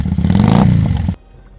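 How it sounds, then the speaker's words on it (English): A motorcycle engine revs loudly and roughly for about a second, then cuts off abruptly into near silence. "The sound of my father's motorcycle."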